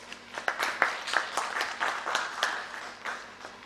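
An audience at an education summit applauds to welcome a speaker: sparse, distinct claps stand out over a thinner bed of clapping, moderately loud and fairly close throughout.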